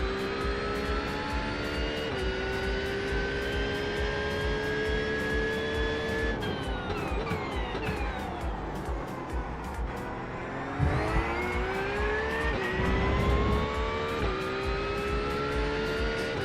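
A GT3 race car's engine drones loudly and continuously at Spa in the iRacing video game, pitch climbing through gears and dropping sharply under braking, then rising again with some rumbling, heard alone.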